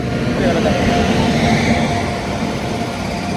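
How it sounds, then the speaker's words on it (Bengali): Kolkata Sairang Express arriving at Azimganj Junction platform 5, a steady loud rumble of rolling wheels and engine drone, with voices talking over it. "সাইরাং এক্সপ্রেস ঢুকছে আজিমগঞ্জ জংশন রেলওয়ে স্টেশনের 5 নম্বর প্ল্যাটফর্মে"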